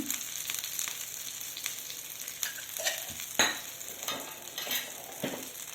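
Ghee and pepper sizzle in a frying pan in a home kitchen, a constant bright crackle broken by scraping stirs and clinks of a spoon, close and lively with no speech.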